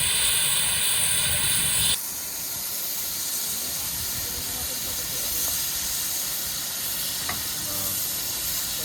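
A steam locomotive on the Llangollen Railway hisses steam, with a loud sharp burst for the first two seconds easing into a steady softer hiss, close by, under a faint metallic clank or two.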